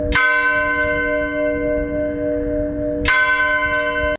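Two loud strikes of a large cast church bell, about three seconds apart, each leaving a long, rich ringing tone that hangs steadily between them.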